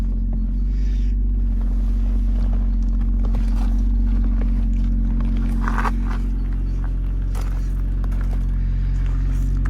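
BMW Z4 sDrive 2.5L from 2011 with a steady, deep engine rumble at idle, held at an even level throughout with faint scattered clicks and movement above it.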